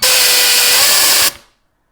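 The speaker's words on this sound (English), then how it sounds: "Air compressor is blowing the yarn through and shooting it through the Tuftinglove basically." An air-driven AK-III tufting gun runs fed by an air compressor, giving a loud, steady high-pitched blast for just over a second before cutting off abruptly with a short fading tail, heard close with no voices.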